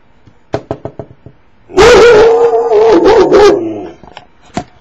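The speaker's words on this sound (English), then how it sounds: "he's got a real ferocious bark, as you just saw." A dog barks fiercely on command, a few sharp isolated barks followed by a loud sustained burst of rapid, snarling barking close by, then a final bark as it settles.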